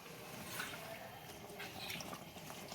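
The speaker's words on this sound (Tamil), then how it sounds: "உப்பு எல்லாமே போட்டு கொஞ்சமாக தண்ணி ஊற்றிக்கிடுவோம்." A little water poured into chicken gravy for a Tamil home recipe, a soft, steady trickle and splash close by, fairly quiet and continuous with no talking.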